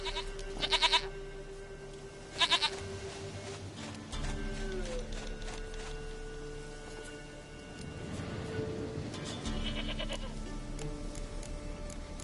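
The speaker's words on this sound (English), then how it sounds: "Goat of mine, dearest," Goat bleats in The Witcher 3 video game: a few short, loud bleats near the start, one more around two and a half seconds, then game ambience with music and tones carrying on.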